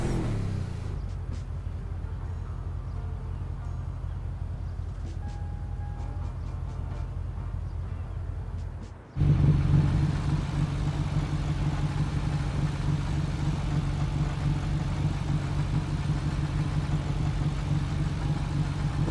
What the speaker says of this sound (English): this car here, my Land Rover Defender